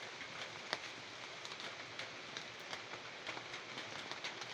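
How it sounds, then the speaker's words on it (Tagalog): Steady rain falls on a surface on a wet morning, a dense even hiss with scattered louder drops, moderately faint and continuous with no voices. "Walang tigil ang ulan."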